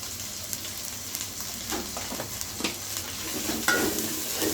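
Salt and chili powder sizzle and fry in a hot pan as they are stirred for beef khichuri, a steady close crackle broken by scraping stir strokes.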